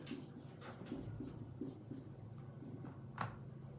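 A teacher writes on a classroom board during a history lesson, producing faint, scratchy strokes in short bursts with small pauses, over a low room hum.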